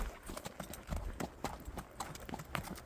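Horse hooves clip-clopping in a steady walking rhythm on a hard surface, fairly close, with soft background noise and no talking.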